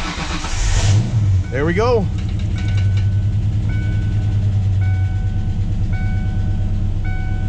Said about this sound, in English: First start of the Mustang